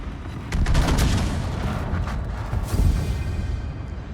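Naval ship guns firing in a warship video game, the Holland and the French battleship Patrie in an asymmetric match, heard as loud overlapping booms and rumbling salvos throughout, with heavier blasts near the start and again toward the end.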